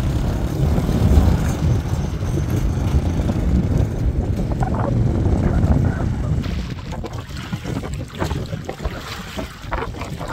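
A loaded kolong-kolong motor tricycle carrying rice crosses a shallow river, its engine rumbling under steady splashing water and wind buffeting the microphone, fairly close and loud throughout.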